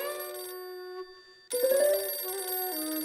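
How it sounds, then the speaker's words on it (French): Telephone ringtone in a French children's cartoon, an electronic melody playing steadily, breaking off briefly, then resuming louder with shifting tones. "Chez les ours bruns, ça sonne, car il y a beaucoup de téléphones."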